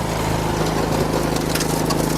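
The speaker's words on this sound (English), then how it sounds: "this one is to turn on the snow blower" A snow blower engine runs at a loud, steady mid-pitched drone that does not let up, with some crackle and scraping above it.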